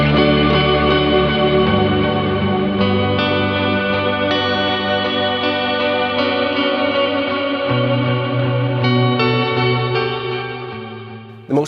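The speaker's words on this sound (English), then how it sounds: "The most common way to run these effects is to have reverb after delay" Sustained distorted guitar chords are processed by delay followed by reverb, forming a dense, continuous wash of echoing tones that fades slightly near the end before a brief final hit.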